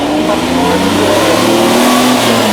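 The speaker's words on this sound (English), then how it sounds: "You can hear that lovely diesel engine chugging away in front of our Lamborghini tractor." Loud, close diesel engine drone of a Lamborghini tractor, steady and continuous with a rising, revving pitch throughout; no other sounds stand out.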